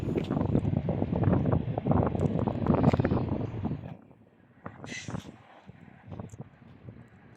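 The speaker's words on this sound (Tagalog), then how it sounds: "Dahil medyo malakas naman po yung hangin." Strong wind buffets the microphone with a heavy, roaring rumble for several seconds, then eases into lighter, intermittent gusts, outdoors during roadwork applying bitumen protection to a loop detector sensor cable.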